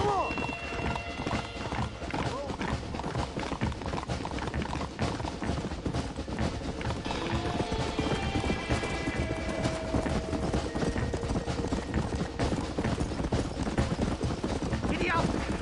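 Hooves clip-clop in a quick, steady gallop as a horse runs in the Red Dead Redemption video game, with music and voices mixed in.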